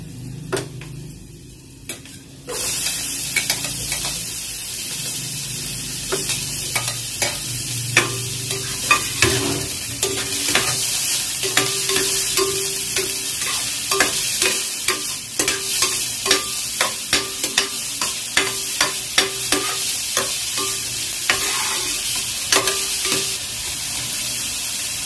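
Garlic and then onion frying in a pan for chicken breast in creamy mushroom sauce, a steady loud sizzle starting after a brief quiet moment, with frequent sharp clicks and scrapes of a utensil stirring against the pan throughout.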